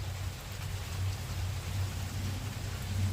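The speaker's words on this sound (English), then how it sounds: "When I heard the rain outside my window" Steady rain falls outside a window during a tropical storm, a soft continuous hiss with a low hum underneath, faint and even throughout with no talking.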